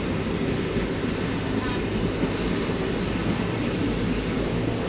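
Steady heavy rumble of a diesel locomotive hauling the Vasco Da Gama–Hyderabad weekly express, continuous, broadband and close, with no voices.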